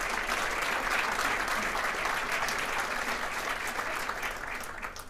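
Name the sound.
applause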